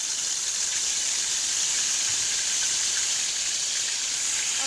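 Chicken pieces sizzle loudly in hot oil on a tawa, a dense, even, bright hiss that holds unbroken from start to finish with no voices.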